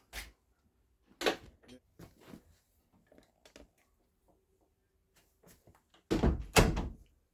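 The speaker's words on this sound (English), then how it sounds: "All I have to do is shut the door" A few soft thumps and knocks, then a solid door shutting near the end with a firm thud, in an otherwise quiet interior of a 2019 Allegro Red motorhome.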